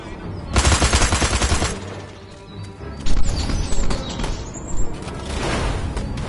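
Gunfire in the video game Destroy All Humans, with loud rapid bursts of automatic fire broken by short pauses and scattered single shots over a busy game soundscape.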